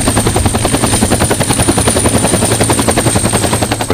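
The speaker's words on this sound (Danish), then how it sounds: "Og helikopteren dukker op og larmer, som den slags gør." A helicopter arriving, its rotor thudding loudly and rapidly in a steady rhythm with a high whine above, close by and continuous.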